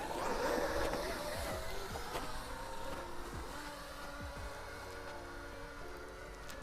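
Traxxas RC truck on paddle tires churning through deep loose terrain, a continuous roaring motor whine with gritty spray of material, steady and near throughout.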